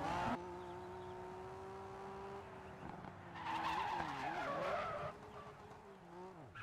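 A Honda NSX in the racing game Grid 2 skids out after a hard e-brake pull, with sustained tire squeal over a revving engine that rises in pitch, then fades to a lower drone.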